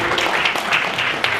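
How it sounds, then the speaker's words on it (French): An audience at a math and physics lecture applauds for the speaker's daughter, a brief, dense wash of clapping that fills the whole moment at even volume. "On peut applaudir ma fille."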